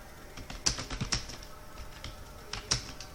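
Sparse keystrokes on a computer keyboard as an address is typed into a CV in Microsoft Word: a few crisp, close clicks spread unevenly, with brief pauses between them.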